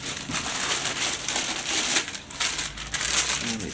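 Crinkling and crushing of a plastic bag, close and fairly loud, continuous with rustling bursts throughout and no voices.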